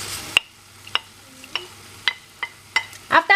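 A spoon stirring a pot of seafood okra stew, with a string of close, sharp clinks and scrapes against the pot over a soft, quiet simmer.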